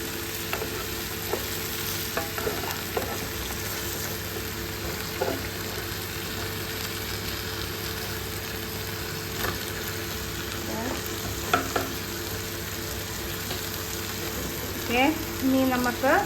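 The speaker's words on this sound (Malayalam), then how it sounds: "ഇളക്കുമ്പം പതിയെ ഇളക്കി കൊടുക്കാനായിട്ട് നോക്കുക, അല്ലെങ്കിൽ നമ്മൾ ഈ ഗ്രില്ലായ ഫിഷ് ഉണ്ടല്ലോ പൊടിഞ്ഞു പോകും." Kerala-style grilled fish is stirred gently in a hot pan, with a continuous low sizzle and soft, occasional scraping strokes over a steady background hum.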